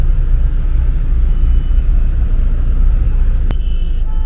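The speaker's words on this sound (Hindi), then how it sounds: "हम लोग एकदम खतरनाक ट्रैफिक में फंस चुके हैं" Road traffic sits jammed beside a construction zone, giving a steady, heavy low rumble of idling engines throughout. Near the end a sharp click is followed by a brief tone.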